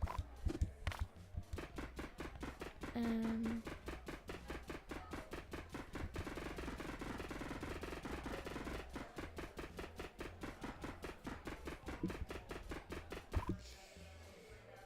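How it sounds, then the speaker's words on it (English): Rapid, steady chopping sound effects from the cooking video game Overcooked run continuously for most of the stretch, a fast rhythmic knocking that holds a constant pace until near the end. "Get you chopping."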